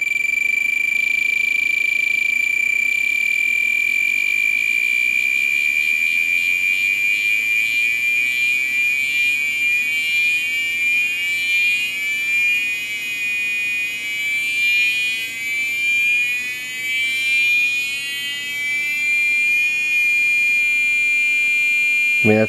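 A multimeter's continuity tester sounds a steady, loud electronic tone at 300 hertz, held without a break for over twenty seconds.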